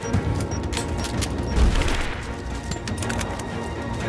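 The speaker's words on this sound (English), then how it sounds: "Grenade out!" Grenade blast in a combat video game, a dense crashing boom with scattered gunfire around it, loud and continuous amid the battle noise.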